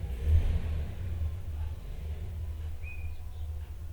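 A car engine idles with a steady low rumble throughout, moderately loud and close, during an engine lubrication system repair, with a brief faint chirp partway through.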